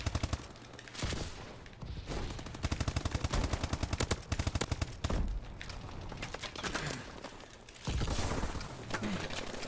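Rapid automatic gunfire from a Call of Duty: Advanced Warfare multiplayer match, loud and dense bursts of shots that run almost without pause, with brief lulls and reload gaps between the volleys.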